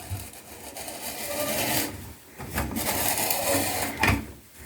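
A bathtub spout is twisted off its pipe by hand, giving a continuous close rasping, rubbing scrape with short breaks and a sharper squeak near the end, with no talking.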